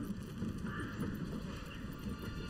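Faint rhythmic clip-clop of horse hooves from the medieval strategy game Manor Lords sits under a low wind-like ambient bed, with soft muffled thuds repeating steadily throughout.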